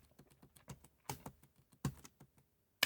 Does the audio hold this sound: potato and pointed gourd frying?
no